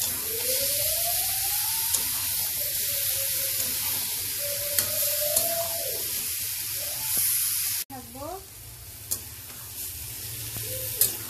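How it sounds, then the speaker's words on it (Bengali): Chicken wings and skin with turmeric, oil and mixed spices sizzle steadily in a pan while being stirred, a broad continuous hiss with scraping strokes and a faint voice singing or talking in the background. "দিয়ে সবগুলো মশলা একসঙ্গে কষাবো।"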